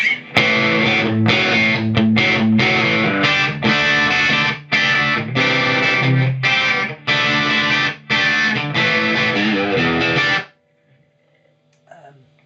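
A crunchy, boosted electric guitar, a Fender Machete on the bridge pickup, plays bright chords and riffs with short choppy gaps, then stops abruptly, leaving near silence with a faint trailing note.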